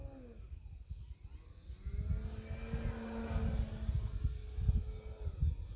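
A Horizon Hobby Ultimate 3D RC aerobatic model plane flying at sunset, its thin motor whine shifting pitch as it passes at a distance, faint beneath gusty wind rumble.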